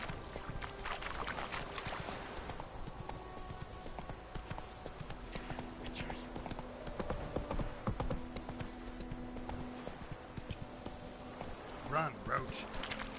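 Horse hooves clip-clopping at a steady gallop in The Witcher 3, a rhythmic run of hoofbeats under continuous game sounds, with a voice talking over it.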